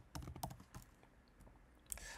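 Quiet, close clicks of a computer keyboard as SQL code is typed, a short irregular burst of keystrokes with a brief pause, no talk.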